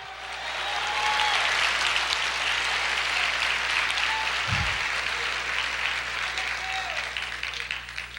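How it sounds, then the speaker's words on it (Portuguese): A church congregation bursts into sustained applause and clapping, a dense crowd sound that swells quickly and holds steady, with some voices mixed in. "Aplauda o Senhor, diga aleluia."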